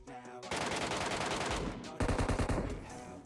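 Automatic gunfire in the battle royale game PUBG, two rapid bursts of close, loud shots in quick succession separated by a brief pause, with no talk over them.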